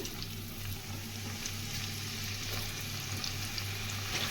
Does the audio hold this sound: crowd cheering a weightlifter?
no